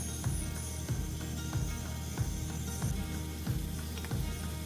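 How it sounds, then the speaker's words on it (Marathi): Asafoetida and bay leaf sizzle in hot oil as Agri Koli–style kaleji masala is started, a steady close frying hiss with small rhythmic stirring knocks and no talk. "आता ह्यामध्ये मी घालत आहे थोडं हिंग आणि तमालपत्र."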